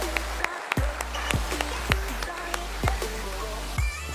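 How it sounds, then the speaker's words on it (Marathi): An audience in a hall applauds a businesswoman at a motivational talk, steady dense clapping from a crowd that carries throughout, with a few sharp low thumps mixed in. "एकदा जोरदार टाळ्या वाजवा."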